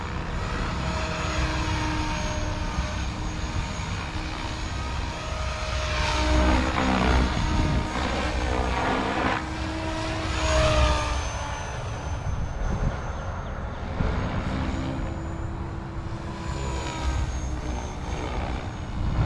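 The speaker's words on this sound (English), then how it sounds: "right back into GPS mode, and the helicopter will hover itself" A model helicopter flying and hovering in GPS mode, its rotor and motor droning steadily for the whole stretch, rising and falling slightly in loudness as it holds position nearby, with no voices.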